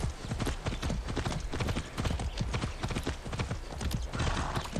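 Horse hooves galloping in the Far Cry 6 video game, a rapid, even clip-clop rhythm that runs throughout, loud and close.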